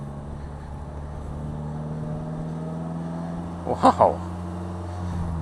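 A Polaris Slingshot with a manual stick shift runs with a low, steady engine drone, and a short exclamation cuts in near the end.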